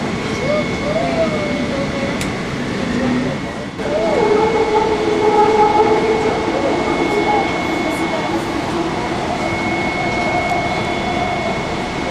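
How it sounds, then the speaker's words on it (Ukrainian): An automated airport air train runs with a steady rumble and a high whining tone, the hum of the ride continuing throughout. "Це називається повітряний поїзд."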